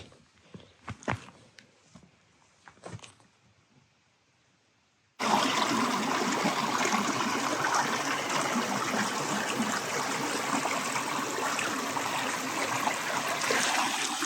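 Little brook flowing into Little Long Pond in Maine, heard as a steady, full rushing water sound that starts abruptly after a few faint footsteps and light rustling, continuing loud and close to the end.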